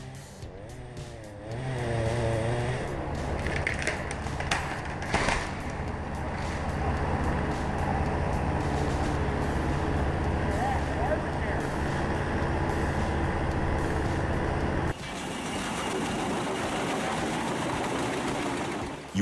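A Pezzolato PTH1300/1500M forestry machine powered by a Caterpillar engine roars loudly and steadily for the whole stretch, with a sharp change partway through, and a voice speaks over the engine noise.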